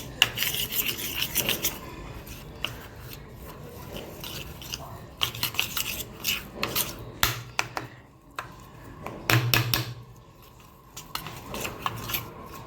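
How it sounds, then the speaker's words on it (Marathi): Brisk scraping and rubbing of a whisk beating flour batter in a bowl, in uneven close bursts with brief pauses, no voices. "मी त्याला आता एकजीव करून घेते छान असं हे फेटून घ्यायचं आहे"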